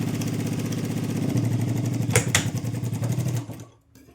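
A sewing machine stitches a blouse, its motor humming in a fast, even rhythm of needle strokes. Two brief clacks come near the end before the machine winds down and stops.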